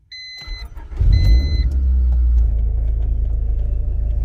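A Honda Prelude engine cranks with a couple of starter whines, then catches with a deep rumble and settles into a loud, steady idle nearby.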